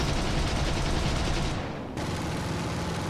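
Rapid, dense machine-gun fire from 7.92 mm aircraft guns in the War Thunder combat game, loud and continuous with a short dip in intensity before the firing resumes at full rate.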